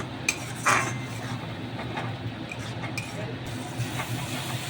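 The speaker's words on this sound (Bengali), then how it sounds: "জলটা দিয়ে একটুখানি ভালো করে নেড়ে চেড়ে কষিয়ে নেব" Metal spoon scraping and clinking against a pan as spice masala with a little water is stirred and fried for a Bengali mushroom dish, a steady low cooking hiss underneath with a couple of sharper knocks near the start.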